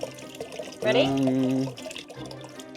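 Water gushing out of an old boat being restored, a strong pour lasting under a second amid close, excited voices before and after.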